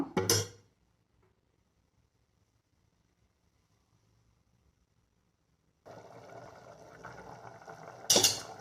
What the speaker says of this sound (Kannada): ಇವಾಗ ಕುದೀತಾ ಇದೆ.